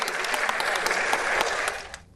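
Studio audience clapping after a remark on a news debate show, a brisk burst of many hands with sharp individual claps, dying away abruptly after about two seconds.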